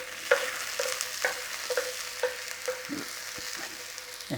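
A bamboo spatula scrapes and stirs chicken bhuna in a hot pan, giving a string of sharp, irregular strokes over a constant frying sizzle, close and clear with no talking.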